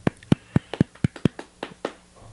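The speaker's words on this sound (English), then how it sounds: "Little golf claps for Jake Reed." A few people give soft golf claps in a podcast studio, about ten light, separate hand claps in an uneven rhythm close to the mic, each one fading quickly to near silence.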